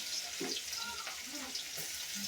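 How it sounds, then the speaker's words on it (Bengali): Chopped onion sizzles in hot oil with a bright, continuous hiss and crackle. A faint voice murmurs underneath. "এখানে তেলের মধ্যে এখান থেকে পেঁয়াজ দিয়ে দিব পেঁয়াজ কুচি দিয়ে দিলাম"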